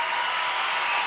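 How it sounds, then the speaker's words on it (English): Football crowd at a women's international friendly between Ireland and Zambia roaring after a goal, a dense, sustained wash of cheering and applause from a large stadium audience. "Crowd are delighted here."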